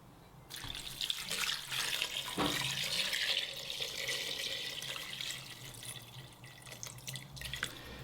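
Cold water runs steadily from a tap into a pot, a continuous close splashing rush with faint clinks, no voices.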